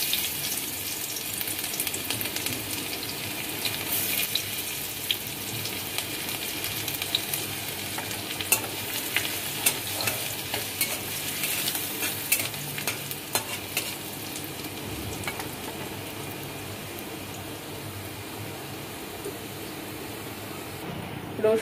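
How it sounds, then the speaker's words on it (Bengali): Crushed garlic fries in hot oil with dried red chilies, a dense crackling sizzle mixed with frequent scraping stirs and faint watery sounds, continuous and fairly close with no talking. "রসুনটা লাল করে ভেজে নিয়েছি।"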